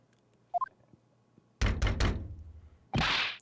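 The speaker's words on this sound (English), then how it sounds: "Look, it locked the door." A door in The Great Ace Attorney Chronicles slams and locks with a cluster of heavy thunks, followed by a sharp metallic latch clank, loud and close, preceded by a brief rising electronic chime.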